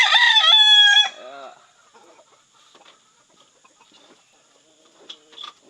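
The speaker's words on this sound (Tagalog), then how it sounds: "Aking mga alagang manok." A rooster crows once loudly and close, followed by softer scattered clucking from chickens in a quiet setting.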